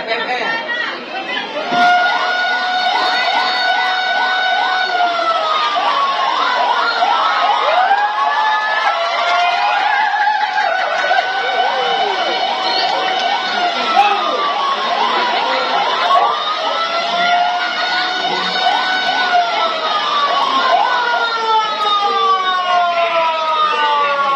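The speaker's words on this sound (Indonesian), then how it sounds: "Dari situ kita dengar sirene ada kondisi darurat" A loud wailing emergency siren rises and falls repeatedly during a firefighting drill, continuous and close, with a crowd of voices chattering underneath.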